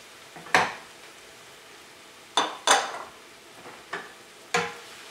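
Garlic going into a hot pan for marinara sauce, heard as a few sharp clinks and scrapes of a utensil against the pan. The knocks come at irregular intervals over a quiet, faint sizzle.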